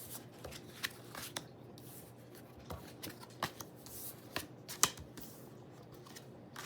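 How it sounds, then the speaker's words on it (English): A deck of oracle cards is shuffled by hand, giving quiet riffling and sharp snapping flicks at uneven intervals, close and alone. "These sometimes are a pain in the ass to shuffle"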